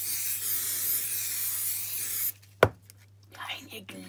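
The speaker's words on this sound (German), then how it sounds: "um die untere Kugel da drauf ein bisschen zu fixieren, mache ich hier einfach ein bisschen Sprühkleber drauf" Spray adhesive hisses steadily onto a snowman craft ball for about two seconds, then cuts off, followed by a sharp knock and quiet handling noises.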